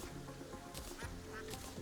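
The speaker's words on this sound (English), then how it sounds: "Ducks." Ducks in the game Terraria give short honking quacks over a dense bed of game music and background sound, brief and fairly buried.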